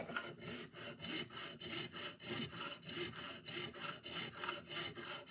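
A saw blade cuts out a frozen babbitt bearing from an Edison Triumph phonograph in steady back-and-forth strokes, each rasping pass evenly spaced and close, with no talk.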